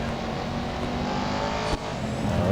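An Aston Martin Vantage GTE race car roars steadily at high revs in Real Racing 3 at the Catalunya Grand Prix circuit, loud and constant, with a brief dip before the engine climbs again.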